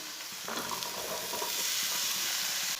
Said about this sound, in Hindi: बारीक कटे हुए आलू डाल लेंगे।